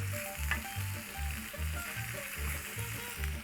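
Vegetables sizzle steadily in butter and olive oil in a pan for chicken fajitas, a close, continuous frying hiss with faint stirring scrapes and no voices.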